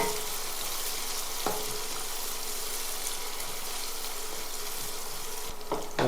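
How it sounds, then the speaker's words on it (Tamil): Small onions frying in a pan for Tamil-style fish gravy, a steady close sizzle and crackle throughout with a couple of faint clinks of a utensil. "நல்லா முருவலாக அந்த வெங்காயத்தை நம்ம ஃபுல்லாக வறுத்துக்குவோம்"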